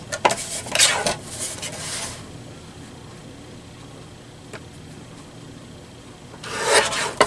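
Scrapbook paper pieces being trimmed down, with rasping, scraping strokes in a quick burst at the start and again near the end and a quiet stretch between.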